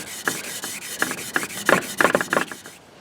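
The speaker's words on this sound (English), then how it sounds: "you want to actually just do it lightly on the sandpaper and not put a lot of weight on it" A piece of jasper rock is rubbed by hand on sandpaper with light pressure, producing a series of short, close scraping strokes in an uneven rhythm before fading out near the end.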